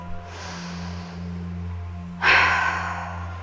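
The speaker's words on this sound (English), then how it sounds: "And exhale through the mouth." A person exhales audibly through the mouth during a home yoga session, a soft breath that swells into a louder, breathy whoosh partway through and then fades, over a low steady hum.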